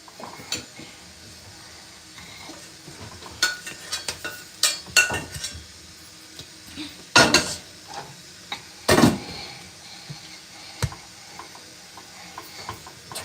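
Chocolate cake batter with cocoa stirred by hand in a bowl, with intermittent scraping strokes and sharp clinks of the utensil against the bowl, close up, with no talking.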